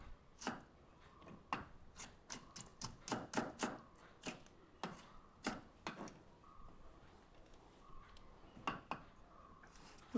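A man chops vegetables and tomatoes with a knife, giving close, sharp taps against a board in uneven bursts, some quick runs and some pauses, with soft faint kitchen clatter in between.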